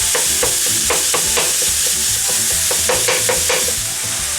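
Minced beef for cannelloni frying in a hot pan and being broken up with a utensil, a loud continuous sizzle with repeated scraping, tapping stirring strokes in an uneven rhythm, no talking.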